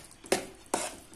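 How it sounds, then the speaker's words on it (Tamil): A spoon stirring thick jackfruit halwa with raisins and cashews in a pan, giving a few soft, close scraping strokes in an even rhythm, with no voice. "இப்ப நல்லா கலந்து விட்டுக்கலாம்."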